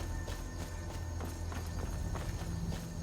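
Horse hooves clip-clop in a video game as the animal follows the player, a quiet run of evenly spaced thuds over a low steady background hum.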